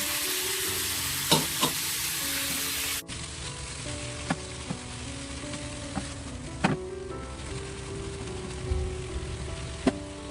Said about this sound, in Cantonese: 我哋就加翻呢個青瓜落去。